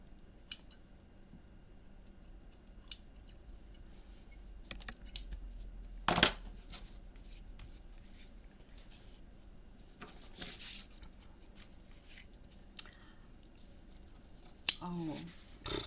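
Scissors trim paper for a handmade flower shop memory book, giving a few sparse, quiet snips and clicks with one sharper cut in the middle, set against a faint room background.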